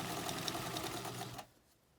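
A sewing machine stitches a denim quilt block, its needle chattering in a fast, steady rhythm up close for about a second and a half before stopping abruptly into quiet.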